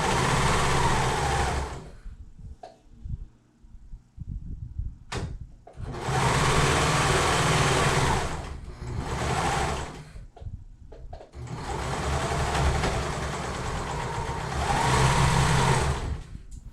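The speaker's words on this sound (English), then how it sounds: "Now we're going to stitch with a stretch stitch or a serger across here as close as we can get to that right knot piece." A sewing machine runs a stretch stitch across a knot waistband in bursts, a steady whirring hum that starts and stops several times, with short quiet gaps between the longer stretches of stitching.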